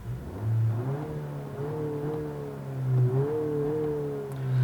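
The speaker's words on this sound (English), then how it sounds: "You can really hear the induction, the enhanced sound induction that this car has" A 2020 Honda Civic Si engine in sport mode revs up and down twice, its enhanced induction note rising and falling in pitch, close and fairly loud with no talking.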